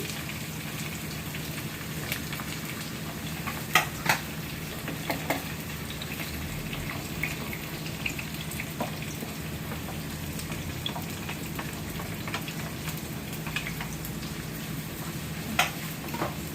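Ginger, onion and garlic sauté in oil for a crab curry, giving a steady, fairly quiet sizzle with a few sharper spoon-and-pan knocks scattered through.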